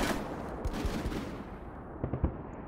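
Rapid gunfire from the military video game Full Spectrum Warrior rattles in uneven bursts of sharp shots, fairly faint and distant, with a short lull in the middle before a few more cracks.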